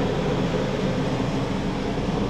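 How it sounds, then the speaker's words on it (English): An air conditioner in a vintage trailer runs with a loud, steady, broadband whir and rumble that stays constant throughout. "Air conditioner is kind of noisy."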